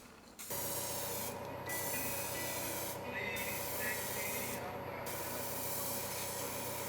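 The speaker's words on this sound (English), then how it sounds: "I took some of this marble spray paint" Marble-effect spray paint hisses from a can in a loud, continuous spray with a few brief pauses between passes, close to the listener.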